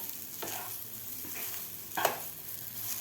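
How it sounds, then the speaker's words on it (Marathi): Soybean chunks frying in hot oil over medium heat, a steady soft sizzle with occasional stirring scrapes and clinks of a utensil against the pan, close and continuous with no talk. "मीडियम गॅसवरच आपल्याला फ्राय करून घ्यायचे आहेत"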